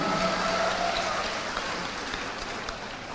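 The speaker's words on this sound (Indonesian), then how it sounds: "boleh kita beri tepuk tangan untuk Bang Anies Baswedan." Dense, rain-like applause from an audience at a youth and student council dialogue with a presidential candidate in Jambi, a continuous hiss of many clapping hands sustained evenly for the whole stretch.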